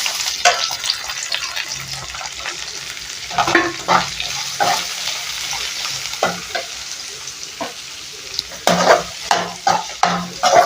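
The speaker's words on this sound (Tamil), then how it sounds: "இப்போது எடுத்து கட் பண்ணி வச்சுருக்கிற ஒரு வெங்காயத்தை சேர்த்துக்கிறேன்" Chopped onion sizzles steadily in a hot pan with garlic for a keerai poriyal while a spoon stirs and scrapes in irregular bursts, close up with no talking.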